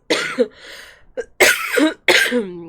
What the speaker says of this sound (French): va falloir se contenter de ma toux